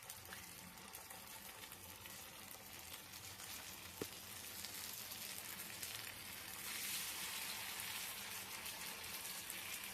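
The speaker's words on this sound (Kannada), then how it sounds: "ಎಣ್ಣೆ ಕಾದ ತಕ್ಷಣ ಫಿಶ್ನ ಹೆಂಚಿನ ಮೇಲೆ ಹಾಕಿ ಚೆನ್ನಾಗಿ ಫ್ರೈ ಮಾಡೋಣ" Fish frying in hot oil on a pan, a steady hissing sizzle that keeps going throughout and swells slightly toward the end, close and even, with no talking.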